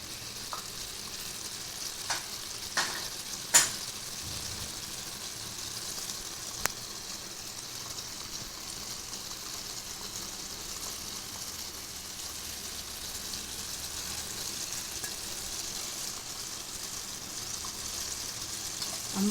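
Brain fry cooking in a pan, a steady soft sizzle throughout with a few sharp clicks and scrapes from stirring near the start, moderately quiet and continuous with no talking.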